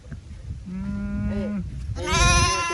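An orphaned lamb, about two months old, bleats on a farm in Yasothon, Thailand: a close, loud wavering cry followed by a higher, harsher second bleat, with faint background noise.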